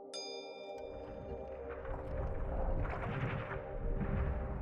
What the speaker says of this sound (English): Now the bell.